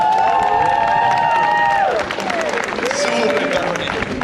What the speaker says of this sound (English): Ladies and gentlemen, please give a big round of applause for Ray and Alexandra.